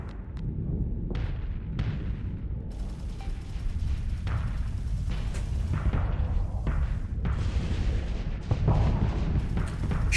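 Ship weapons in Starsector, a modded space strategy game, fire a dense, continuous barrage of booming artillery-like shots and bursts, with sharp cracks standing out against a steady roar of heavy fire throughout.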